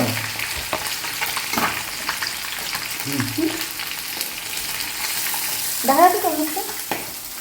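Pabda fish sizzle steadily in a pan, a continuous frying hiss with soft scrapes and a few brief clinks of utensils, fairly close and moderately loud, with no talk.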